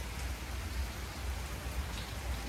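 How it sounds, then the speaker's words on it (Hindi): Rain falls steadily on the route to a temple, where a landslide has blocked the way, a constant close patter with soft low rumbles beneath and no voices. "बारिश हो रही है"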